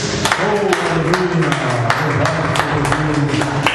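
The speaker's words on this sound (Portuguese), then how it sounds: "E que as palmas louvem a Deus" A church congregation claps together at the close of a worship service, a dense wash of applause under an ongoing voice with musical tones beneath.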